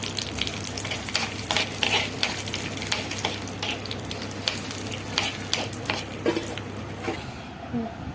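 Cashew nuts frying in a pan for pumpkin halwa, a close steady sizzle with scraping stirs and light clinks of a spoon, and a low hum underneath that cuts out near the end.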